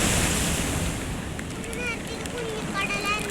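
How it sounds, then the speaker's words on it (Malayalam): Rough monsoon sea surges against a tetrapod-lined shore at Chellanam, Kerala, a loud continuous roar of surf mixed with heavy wind buffeting the microphone, with faint voices in the background. "നല്ല മഴയുടെ സമയമായതുകൊണ്ട് തന്നെ കടൽ ഭയങ്കര കൂടുതലാണ്"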